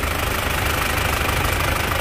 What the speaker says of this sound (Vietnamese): coi cục máy của Isuzu Highlander nè. Máy nổ cực kỳ là chắc chắn.